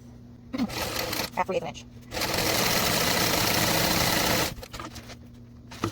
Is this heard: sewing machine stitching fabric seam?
yes